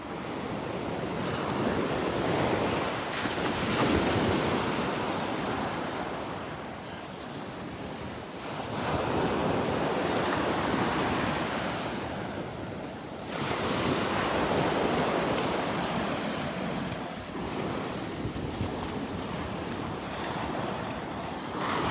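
Small waves break and wash along the shore at Delnor-Wiggins beach, their surges rising and falling every few seconds under steady wind buffeting the microphone.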